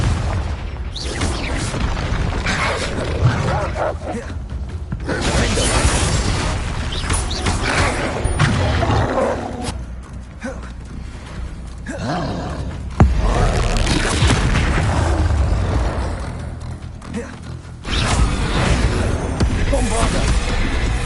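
Booming blasts from the Confringo spell in the video game Hogwarts Legacy, loud repeated explosions amid dense combat noise with a voice calling out spells.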